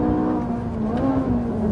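A Ferrari 458 Italia's 570-horsepower V8 revs hard and close, a loud continuous howl with rising and falling pitch and no talking.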